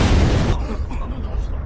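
A loud, close anime explosion hits at once as a heavy roaring burst, then drops into a rumbling, crackling tail that fades over about a second.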